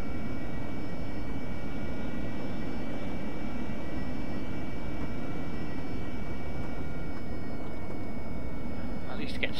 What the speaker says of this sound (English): We've got to take off into the wind somehow